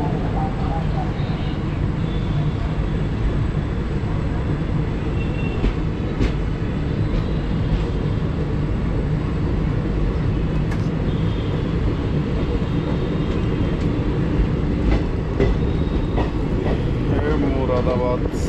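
The Shramjeevi Express passenger train runs between Moradabad and Bareli, heard from on board as a loud, unbroken rumble with faint rail clatter and scattered clicks throughout.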